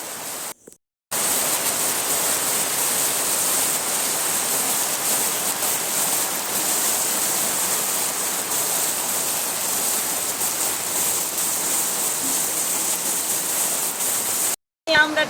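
Heavy rain pouring onto a flooded home courtyard, a dense, loud, unbroken roar of falling water close by, briefly cut off at the start and end.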